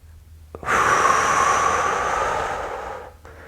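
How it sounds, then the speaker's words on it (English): A single long, deep inhale during a relaxing posture stretch: a steady, close breathy rush that swells quickly, holds for about two and a half seconds, then fades, with no talking. "One nice deep breath"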